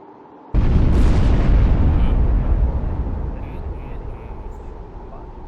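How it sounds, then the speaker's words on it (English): A Concorde sonic boom in the FSLabs Concorde flight simulator game: one sudden, loud boom that hits at once, then a long rumbling roar that slowly fades. "Sonic booms, we love them."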